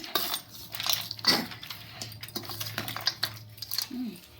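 A metal spoon scraping and clinking against a pot while tempering is mixed into rice for lemon pulihora, irregular close taps and scrapes with a few brief louder clatters.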